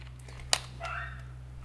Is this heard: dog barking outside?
yes